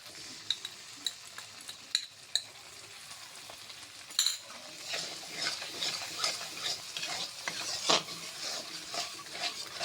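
Yogurt sizzles as it's stirred into hot spiced oil with green chillies, broad frying hiss with scattered sharp clinks and scrapes of a spoon against the pan, moderately loud and close, no talking.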